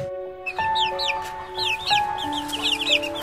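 A chicken in a Roblox game clucks in a rapid series of short, bright calls over steady synthesized tones of the game's soundtrack, with no voices.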